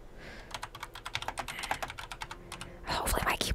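Rapid clattering keystrokes on a computer keyboard, close and fairly soft, with a burst of denser typing at the end and no talking.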